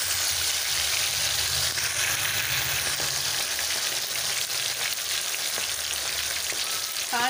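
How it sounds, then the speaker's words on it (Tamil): Quail fries in hot oil in a kadai, a dense, continuous, close sizzle that holds steady throughout with no talking. "ஒரு கடாயில் எண்ணெய் சேர்த்துருக்கேன். எண்ணெய் நல்லா சூடாகிட்டுருக்கு. இன்னும் கொஞ்சம் சூடானதும் நம்ம காடையை போட்டு பொரிச்சு எடுத்துக்கலாம்."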